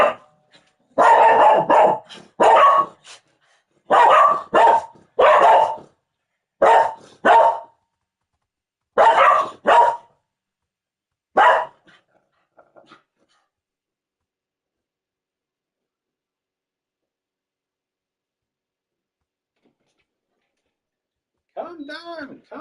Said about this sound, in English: Those are my dogs, Honey and Bo.